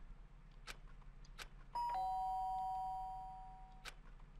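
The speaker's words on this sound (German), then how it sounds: "Das scharfe Geräusch der Türklonge." Doorbell in the video game Danganronpa: Trigger Happy Havoc Anniversary Edition rings once, a bright two-tone chime that sustains and slowly fades over a faint background hum, with no talking.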